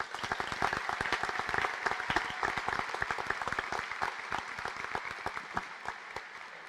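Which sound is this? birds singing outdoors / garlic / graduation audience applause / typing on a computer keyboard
graduation audience applause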